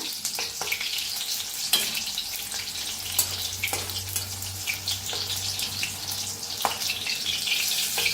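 Green chilies roast in hot oil in a pan, giving a steady close sizzle with scattered pops and crackles throughout and a low hum in the middle stretch; no voices are present.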